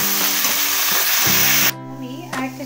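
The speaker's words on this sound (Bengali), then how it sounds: "ওখানে আমি আলু কাঁঠালটা ভাজতে বসিয়েছি, ওটা ভাজা হচ্ছে" Potato and jackfruit fry in a pan with a loud, continuous sizzle that drops away abruptly partway through, leaving quieter crackling and stirring.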